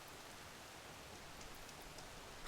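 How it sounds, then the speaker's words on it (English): Steady rain in the video game Horizon Forbidden West, a faint even hiss of falling drops with no talk and a brief louder bump at the very end. "I'm sitting here for full 24 hours and the rain's still going."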